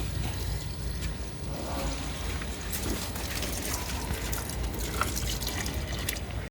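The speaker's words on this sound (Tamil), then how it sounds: "நம்ம செடிக்கு வந்து தண்ணி ஊற்றியாச்சு" Water is poured onto a potted plant, a steady close splashing and trickling hiss running through the whole stretch at a fairly low level, without speech.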